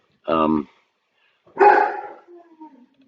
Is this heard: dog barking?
yes